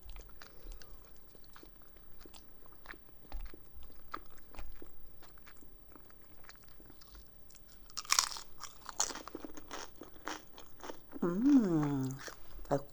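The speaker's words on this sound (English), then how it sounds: "Try one of these chips." Crisp chips are crunched and chewed up close in a quiet room, a steady run of soft, sharp bites and munching, with a louder rustle near the end and a brief murmur of voice.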